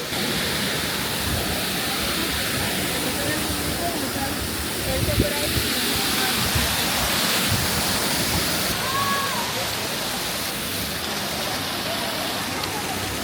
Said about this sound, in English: Now I'm walking up to the actual waterfall.